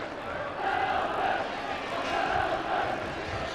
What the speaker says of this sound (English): the supporters of both teams already in full voice